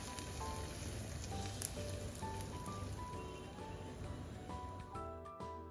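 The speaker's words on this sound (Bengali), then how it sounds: "এখন আমি ফোড়ন দিলাম পেঁয়াজ, রসুন আর 1-2টা শুকনো মরিচ দিয়ে সরিষার তেলে" Onion, garlic and dry chilies tempered in hot mustard oil, with the stove flame off, crackle and spit softly in a faint, rain-like patter that fades toward the end.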